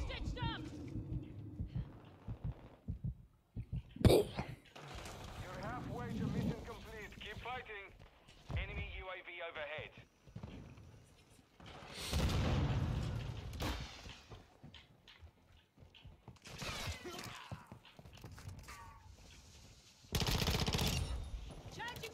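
Video game gunfire in irregular bursts and single shots, some loud and close, with mechanical clanks between, heard under frequent excited talking throughout.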